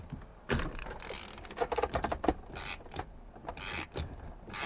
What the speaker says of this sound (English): And then you put your screwdriver in here and you get to turning